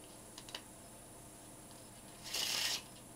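A deck of playing cards shuffled by hand during a card trick, a short soft riffle burst after a few faint flicks, quiet and close in a still room.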